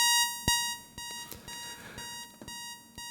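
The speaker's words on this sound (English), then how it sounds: "that's, again, the Modular just pulsing away" Eurorack modular synthesizer pulsing away, steady high beeping tones with regular percussive clicks about every half second, fairly close and moderately loud.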